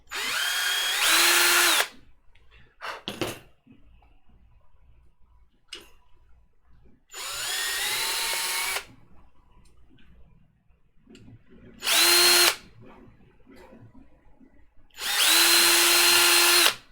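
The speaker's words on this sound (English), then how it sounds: "let me drill out some of these other holes real quick" A power drill drilling out holes in 3D printer parts for a BLV MGN Cube build runs in four separate bursts of a few seconds each, close and loud, with quiet gaps and small handling clicks between.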